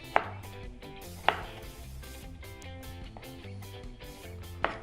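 A knife cutting raw banana into thin finger strips on a board, three sharp isolated chops spread out with a quiet background between them.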